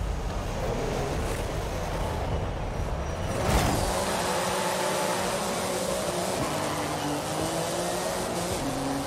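A race car engine in Forza Horizon 5, driven with a racing wheel and driver aids off, a sustained roar with rising and falling pitch as it accelerates and shifts, plus a brief whoosh partway through.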